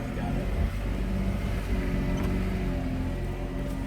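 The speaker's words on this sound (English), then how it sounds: "Peeling out, 4-wheel drive style." A four-wheel drive vehicle peels out on a steep, hard-packed dirt hill, its engine giving a steady low roar and rumble at moderate distance, with faint talking under it.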